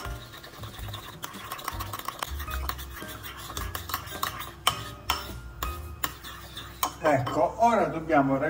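A spoon stirs goat cheese with extra virgin olive oil and a pinch of salt in a bowl, giving a steady run of close scraping and clinking against the bowl.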